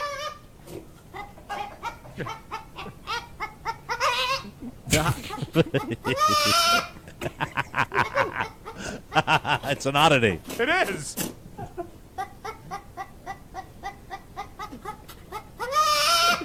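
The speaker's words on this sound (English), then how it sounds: "this is a baby goat that sounds like a chicken" A baby goat lets out repeated short, chicken-like clucking bleats in rapid bursts, close by, with people talking between the calls.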